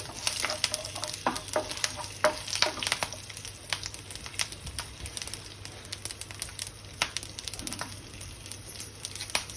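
Mustard seeds with green and dried red chilies fry in hot oil, with sharp irregular pops and crackles over a steady sizzle, close up and without speech.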